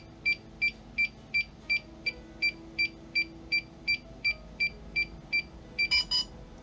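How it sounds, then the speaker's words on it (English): A DJI Mini 1 drone emits a steady series of short, high beeps on connecting to its controller, about two per second, evenly spaced over a low background hum. "the beep you can hear, and also these flaps a little bit moved with the beeping"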